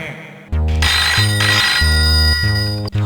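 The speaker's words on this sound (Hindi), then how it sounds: "मोर ससुराल के फोन है" A telephone rings loudly and steadily with a repeating electronic ringtone pattern that runs through the whole moment, close and clear, with no talk over it.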